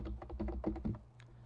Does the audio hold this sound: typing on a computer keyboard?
yes